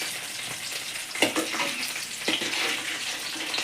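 Potatoes fry lightly in oil, giving a steady hiss of bubbling and crackling with a couple of louder spattering pops, close by.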